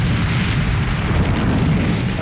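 A continuous deep rumbling roar of heavy naval artillery salvos from the battleship Bismarck fills the clip, loud and booming with no break.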